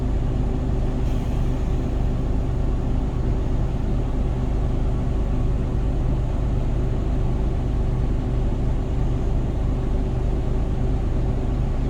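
A truck engine held at raised revs during an in-cab pre-trip check, a loud, steady, continuous drone heard from inside the cab with no talk over it.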